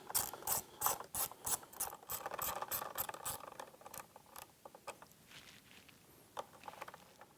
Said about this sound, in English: Go ahead and remove the 2 bolts holding the upper part of the dash, or the electronic suite.